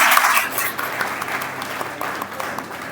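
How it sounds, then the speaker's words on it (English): Audience applause at a youth parliament event, a dense burst of clapping that stays loud and steady for a few seconds. "Clap for yourselves."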